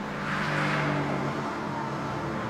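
A Mercedes-AMG GT R engine roars continuously, loud and close, a dense steady drone while the car slides, with no talking.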